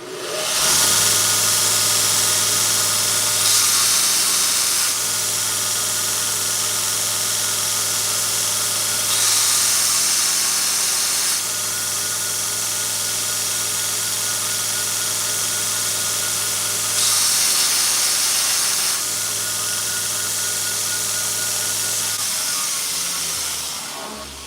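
A power grinder works on metal in a cluttered workshop, giving a sustained loud whine and hiss across several passes, its pitch and intensity shifting slightly as pressure changes, with no talking.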